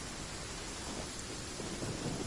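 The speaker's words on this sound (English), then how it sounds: "Don't stay out in the rain for too long." Steady rain with a low rumble of thunder in the video game Genshin Impact, a dense, even wash of rainfall holding at moderate level throughout with no voices.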